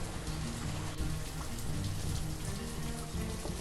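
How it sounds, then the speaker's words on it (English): Steady rain pours continuously in a dense, even hiss, with soft low rumbling beneath and no voices, in the video game Banished. "Right, it's raining."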